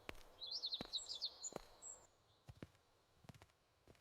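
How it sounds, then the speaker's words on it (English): Birds chirping in trees on a quiet street in the morning; a quick flurry of faint high twittering calls at first, then scattered soft ticks and taps against a hushed background. "I can hear birds in the trees"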